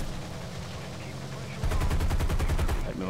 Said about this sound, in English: My 50 cal will take him out.